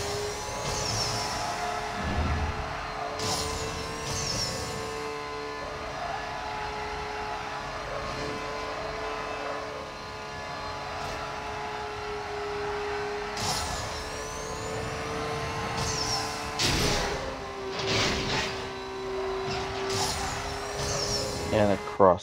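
Nissan Skyline 2000 GT-R racing in the NFS No Limits mobile game, a steady high engine whine holding through gear changes, with brief bursts and whooshes of passing traffic layered over a continuous hum.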